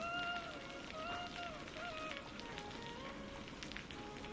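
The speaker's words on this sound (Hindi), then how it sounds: "बारिश तेज हो गई।" Heavy rain pours down steadily on a street beside a pani puri seller's stall, a dense constant hiss running through the whole stretch with faint tonal sounds and background voices underneath.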